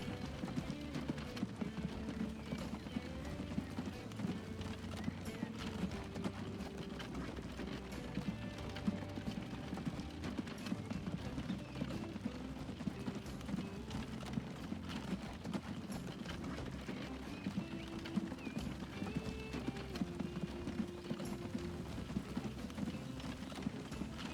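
Continuous rapid hoofbeats of several horses clip-clopping at speed under a dense, busy game soundscape, steady throughout.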